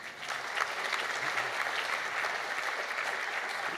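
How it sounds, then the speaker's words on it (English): An audience at the Greater Shepparton Volunteer Recognition Awards applauds a performance with dense, sustained clapping that stays loud and even throughout. "How about another round of applause?"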